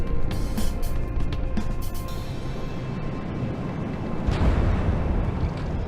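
A main gun fires amid explosions in the From the Depths naval combat game: a dense, continuous rumbling roar broken by bursts, with a heavy boom near the end.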